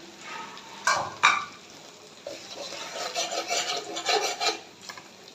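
Beaten egg goes into a pan of frying chicken with garlic, giving two sharp splashing hisses followed by a soft, uneven sizzle and scraping as the pan is stirred, fairly quiet and close.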